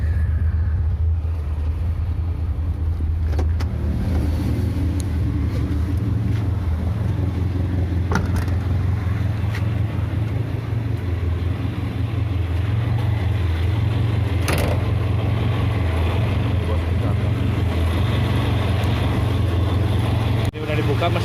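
A 1996 Daihatsu Feroza SE engine idles steadily under restoration, its low continuous rumble close and even throughout, with someone speaking over it.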